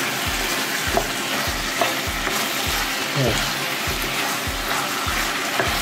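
Sweet and sour pork ribs stir-fried on high heat, a Cantonese dish: a steady loud sizzle with a regular scraping stir of the spatula roughly every second, close up, with no voices.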